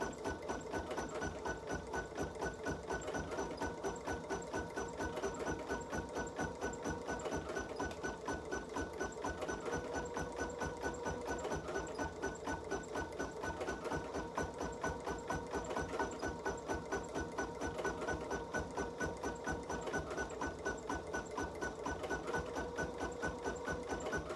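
An embroidery machine stitches a design while following a thread chart, a steady rapid mechanical clatter of needle strokes running continuously and evenly throughout at close range, with no talking.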